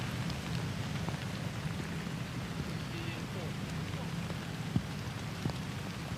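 Heavy rain falls steadily on a golf course during an amateur championship in the Asia-Pacific region, an even, dense hiss of drops with no pauses and only a few isolated louder taps.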